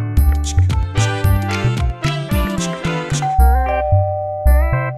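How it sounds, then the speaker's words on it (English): A doorbell rings out loudly again and again in a bright, repeating melodic ding-dong chime that ends on a few sustained tones. "It's a doorbell. Someone's at the door."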